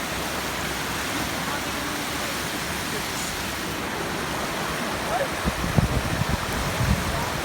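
Typhoon floodwater rushes past in a steady, broad wash of flowing water, with a few closer knocks and splashes near the end and people talking over it.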